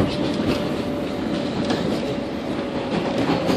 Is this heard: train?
yes